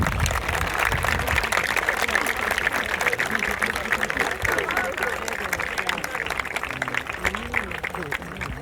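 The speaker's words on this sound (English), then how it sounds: "give your parents a round of applause" Students in a school gymnasium or hall clap for their parents at an 8th grade ceremony, a steady dense wash of applause from a large crowd lasting the whole stretch, with murmuring voices underneath.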